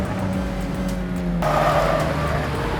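A Mazda MX-5 driven hard through corners on a tight track: a steady, close engine drone that drops in pitch midway as it shifts, then swells into a louder roar. No one speaks.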